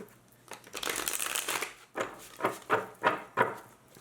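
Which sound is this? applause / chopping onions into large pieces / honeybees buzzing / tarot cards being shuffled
tarot cards being shuffled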